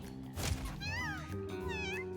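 Game cats in Mewgenics meow twice in quick succession, clear and close over steady droning game music, with a soft thump just before.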